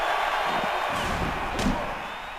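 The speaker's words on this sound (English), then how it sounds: "And down goes Big Papa Pump" A wrestler is slammed to the mat in a WWE SmackDown video game, one heavy thud landing amid constant crowd roar and arena noise.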